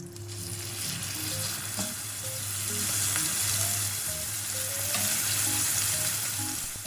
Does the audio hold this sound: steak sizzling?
yes